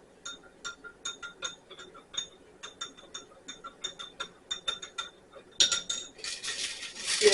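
A spoon stirring Knox gelatin mixture in a bowl, with repeated light clinks and taps against the sides in an uneven rhythm, close and fairly quiet, ending in a brief louder burst.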